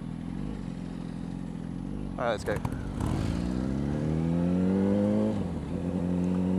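Motorbikes idle and rev close by, engine drone rising in pitch through the latter half, with people talking over the engine noise.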